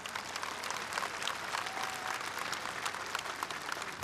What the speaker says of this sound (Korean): 힘찬 박수로 또 격려 부탁드리겠습니다.